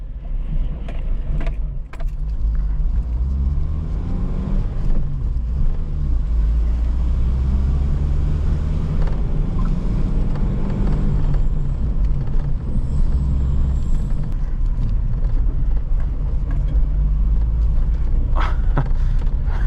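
Peugeot 309 engine pulling steadily as the car gains speed on an Indian road, a deep continuous drone and rumble from inside the cabin with occasional small rattles and jingles.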